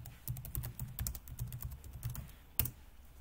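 Quick keystrokes on a computer keyboard as a search is typed into Google Chrome, a close, even burst of clicks ending with one sharper key press, likely Enter, with no voices.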